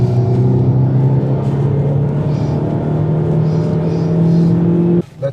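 A car on a race circuit at full throttle gives a steady, loud engine drone whose pitch rises slowly for about five seconds, then cuts off abruptly.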